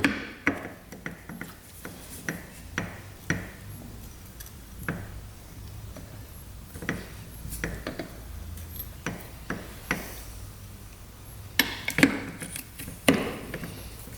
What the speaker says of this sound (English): I've got the washer, block washer, and your nut goes on.